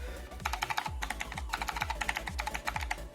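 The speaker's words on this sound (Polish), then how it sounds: "Jak widzicie, klawiatura z firmy Genesis jest to klawiatura Genesis Tor 150." Rapid, steady typing on a Genesis Thor 150 keyboard with metallic keys, each keystroke crisp and close, continuing in quick bursts for a few seconds with no talk.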